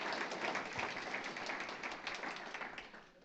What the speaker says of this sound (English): Can we give them a round of applause for their really hard work on this project?